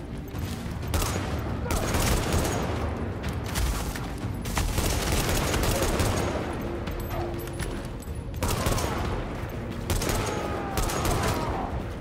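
Near-continuous pistol fire and gunfight noise from the video game Tom Clancy's The Division fills the clip, dense and loud with repeated cracks and a few heavier booms, steady throughout.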